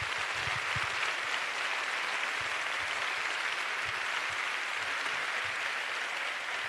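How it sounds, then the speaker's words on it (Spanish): A crowd at a political rally in Seville claps for young volunteers, a soft, steady spread of applause heard from a distance, continuous for several seconds without speech. "un aplauso a estos jóvenes que están colaborando"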